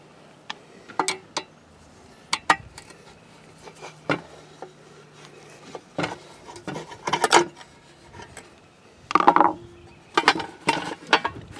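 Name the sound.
removing screws from an RV power outlet box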